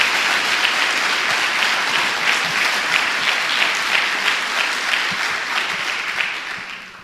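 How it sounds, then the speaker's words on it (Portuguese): Dense, sustained applause from a church congregation fills the space, steady and loud for several seconds before tapering off slightly at the end. "Dê uma salva de palmas ao nosso Deus."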